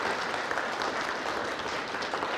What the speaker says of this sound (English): let's get a round of applause.